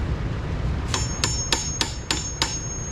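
A small ball peen hammer tapping metal on a truck body rack extension: six evenly spaced, bright ringing taps with a metallic tone, over a steady low rumble of background noise.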